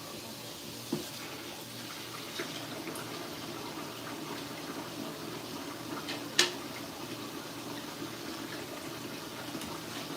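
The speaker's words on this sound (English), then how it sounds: "Rinse it off with some clean water." Tap water runs steadily in a home kitchen to rinse a cutting board, a continuous hissing flow broken by a few faint clinks and splashes.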